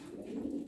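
Yellow Lahore pigeons giving a single soft, low coo, brief and faint, heard close by without any talking.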